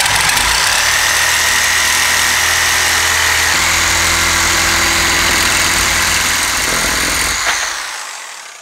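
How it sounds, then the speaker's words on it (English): Reciprocating saw cutting metal stock for homemade truck camper tie-downs, a loud, steady, close buzzing whine that runs continuously for several seconds before cutting off and fading. "Then I use my trusty Sawzall to cut it down to size."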